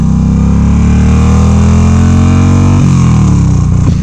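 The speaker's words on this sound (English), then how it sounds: "I really do like the engine in this" A Yamaha V Star 950 motorcycle engine revs loud and close while riding, a continuous throaty drone that rises in pitch and then shifts with a gear change.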